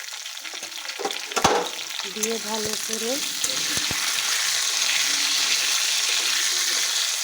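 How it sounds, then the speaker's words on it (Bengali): Potatoes with a little salt and turmeric dropped into hot oil sizzle steadily, a close, continuous frying hiss with a few clinks of a utensil near the start and a brief spoken phrase. "এই তেলে দিয়ে দিচ্ছি আলু, অল্প একটু নুন আর হলুদ"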